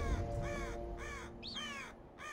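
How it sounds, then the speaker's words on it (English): A crow caws repeatedly in Assassin's Creed Valhalla, five harsh calls in a loose rhythm standing out clearly over a low steady game ambience, with no talking. "Bird making bird noises."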